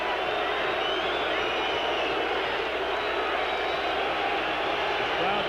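Basketball arena crowd at a college game between Duke and Illinois, a dense, steady roar filling the hall and swelling continuously, with broadcast commentary voices blended underneath.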